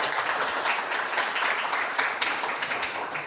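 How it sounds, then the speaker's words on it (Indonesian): Schoolchildren in an Indonesian classroom guidance session clap together in a dense, lively round of applause that stays loud and even throughout. "terima kasih, tepuk tangan dulu"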